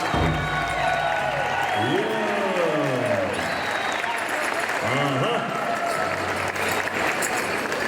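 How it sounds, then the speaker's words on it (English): Applause from the crowd at the Shakopee Pow Wow exhibition at Mall of America, a dense continuous clapping with cheering, whistles and a voice calling out briefly over it. "a big round of applause"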